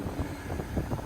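Wind buffeting a microphone outdoors beside tracked machinery with a failed final drive, a low, rumbling, uneven blustering that swells and fades across a brief moment.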